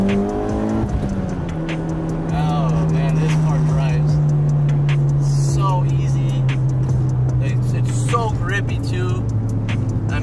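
A Mitsubishi Evo X with an H-pattern gearbox and all-wheel drive drives past, its engine note held steady before dropping and blipping through several downshifts, loud and close, with someone talking throughout.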